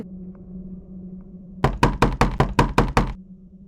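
Knocking on a locked hotel room door: eight loud, close, evenly spaced raps in a quick run, standing out against a low steady room hum, with no talk.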